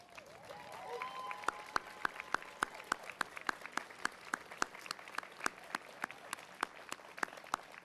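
An audience applauds municipal employees of Troy, Michigan at a State of the City event, steady crowd clapping from start to finish with a few sharp individual claps standing out, a moderately distant hall sound.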